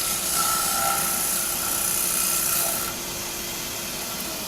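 A turning tool cuts fine, wispy shavings from a wooden bowl on a lathe, giving a close, steady, rough hissing scrape that eases slightly near the end, with no talk.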